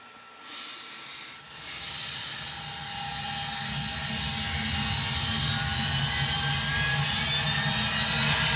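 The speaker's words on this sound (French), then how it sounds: "Avion à décoller." A jet airplane roars during takeoff, a broad, steady hiss and rumble that swells gradually and holds loud throughout, with no voices over it.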